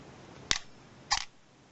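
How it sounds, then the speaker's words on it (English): Two sharp mechanical clicks sound about half a second apart, close and alone in a quiet room, as the shutter of a partly reassembled S1A camera fires during a teardown. "that shutter, however not great it may be, does work"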